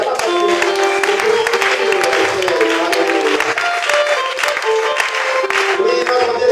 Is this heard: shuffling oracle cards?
no